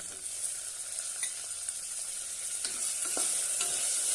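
Cumin seeds and finely chopped tomato sauté in a pan for a sprouted moth bean pulao, a steady hiss with occasional scraping stirs of a spoon, close and alone.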